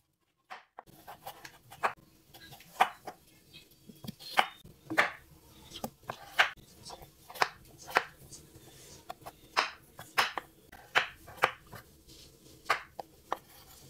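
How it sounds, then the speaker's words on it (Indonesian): A large potato being diced with a kitchen knife on a cutting board, a quick run of sharp, distinct chops at a steady rhythm, close and clear with no talking. "Kentangnya saya potong dadu."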